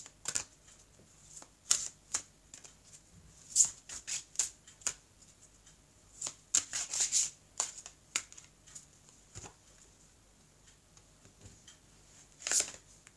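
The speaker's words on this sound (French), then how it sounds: "je vais vous prendre les cartes conseils" Tarot cards riffled and drawn in scattered quick flicks and soft slaps, with quiet pauses between bursts, close and faint with no voices.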